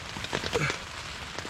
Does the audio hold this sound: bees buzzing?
no